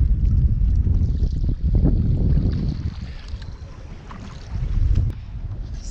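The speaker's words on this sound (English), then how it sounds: "I'm just paddling just over the middle" A kayak is paddled across open water while bass fishing, with soft rhythmic splashes and water swishes over wind buffeting the microphone, nearby and moderately loud, no voices.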